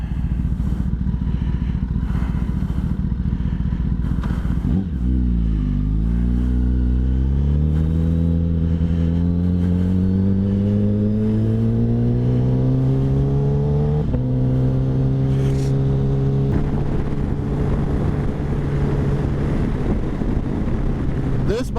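A motorcycle engine idles loudly, then revs up from a deep low tone into rising pitch that holds and steps higher again, with wind buffeting the microphone throughout.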